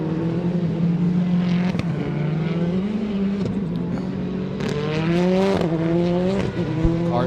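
Rallycross cars racing at Mondello Park, braking hard and accelerating up the straight, loud engines sweeping up and down in pitch with crackles and a brief tire squeal, several cars passing close, no talk.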